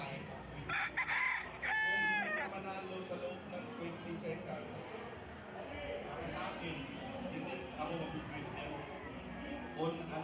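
Chickens cluck and a rooster crows near the start at a fiesta, over a busy background of voices and farmyard noise.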